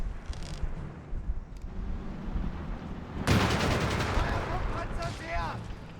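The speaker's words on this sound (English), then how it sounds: "98 mortar round lands disturbingly close here to the rear" Company of Heroes 3 battle in a Deutsches Afrikakorps versus US Forces match: a loud mortar blast erupts midway, with steady gunfire and battle noise before and after, and a faint voice underneath.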